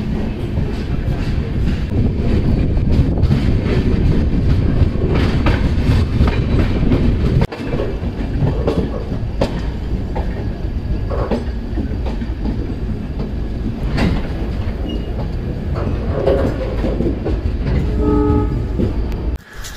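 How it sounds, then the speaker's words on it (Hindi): The Jammu Mail Express pulls out of Phagwara Junction, heard from inside a first-class AC coupe as a loud, continuous rumble with steady wheel clatter over the rails. "देखिए भाई फगवाड़ा जंक्शन से डिपार्चर अपनी ट्रेन का"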